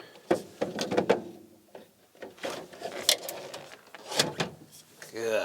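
Cabinet drawers in a van conversion slide and bump shut with a series of soft thuds, rattles and sliding scrapes, close and fairly quiet, with a voice briefly heard.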